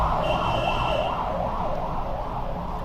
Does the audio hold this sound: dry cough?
no